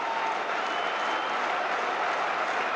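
A big baseball crowd at Fenway Park applauds as Roger Clemens pitches for the Red Sox against Kansas City in 1990. The dense, steady wash of clapping and cheering stays distant and even throughout.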